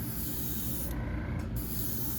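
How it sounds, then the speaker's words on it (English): Continuous close spray paint hiss along a fishing popper lure, with a brief pause in the middle, steady and loud throughout. "I'm spraying right up the spine."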